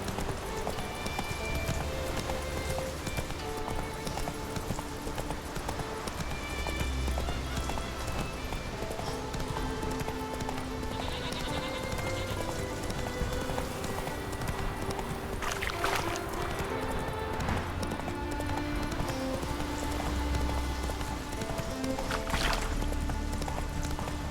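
Hooves pound steadily as a horse gallops in The Witcher 3: Wild Hunt, a continuous rhythmic clip-clop over game music and ambience, fairly loud throughout.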